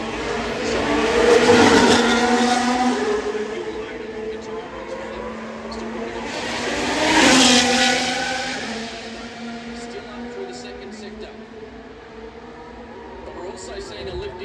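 Formula 1 cars race past at the Singapore Grand Prix, two loud engine roars sweeping by in turn over a steady background drone, with commentary running underneath.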